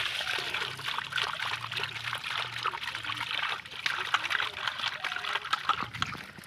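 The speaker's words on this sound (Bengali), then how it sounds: "আর আমার মা দেখবা কী করছে, মাছ ধোয়া হচ্ছে" Tap water running steadily while fish is washed in a home kitchen, a continuous splashing trickle with faint background voices underneath.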